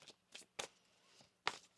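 Tarot cards being shuffled by hand make a few quiet, sharp riffling bursts spaced apart, in an otherwise hushed room with no talk.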